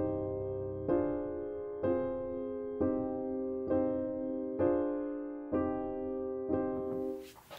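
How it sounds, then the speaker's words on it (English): A virtual piano instrument in a DAW template plays a slow, even series of repeated chords, roughly one per second, sounding clean and moderately quiet with no voices. "I just unmute this track and I have automatically loaded up a piano sound."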